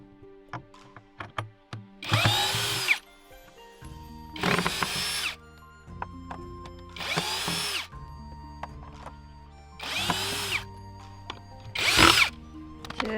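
A power tool, likely a saw or grinder, cuts off excess material during repair work on a village water supply, sounding in five loud bursts of about a second each with short pauses of quiet clatter between them, no talk.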